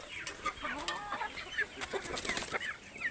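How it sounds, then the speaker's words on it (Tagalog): A flock of raised chickens on a small poultry farm clucks and chatters nearby, with many overlapping short calls and a few sharper squawks over a soft, steady background. "Punta tayo sa ating mga alagang manok."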